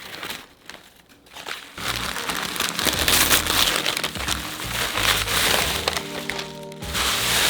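Plastic bubble wrap packaging being handled up close, crinkling and crackling in dense bursts with a quieter pause near the start, continuous rustling throughout and no talking.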